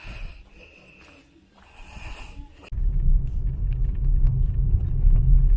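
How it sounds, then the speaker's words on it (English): A small Suzuki car on the road in the Philippines, its low engine and road rumble rising abruptly halfway through and then holding a steady, close drone with no talk. "I'm on my way now for the first PMS of this car, the little car I have in Suzuki"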